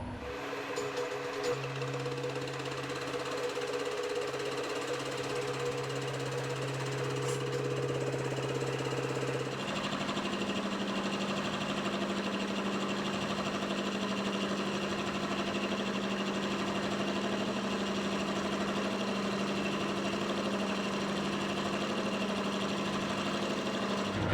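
A horizontal milling machine's steady mechanical hum and grinding drone runs throughout, shifting in tone partway through as a 1 mil cut engages; continuous, moderately loud, no talking.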